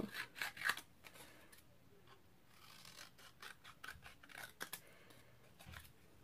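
Scissors snip around a die-cut horse-and-carriage card piece, giving quiet, close rasping cuts in quick irregular bursts, busiest at the start and then sparser, with no talk.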